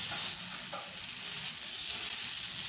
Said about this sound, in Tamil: இப்போ நம்ம அரைச்சி வச்ச இந்த வேப்பம்பூ தொகையலை இதில் நல்லா கலந்து எண்ணெயில் போட்டு பரட்டி எடுத்துடுவோம்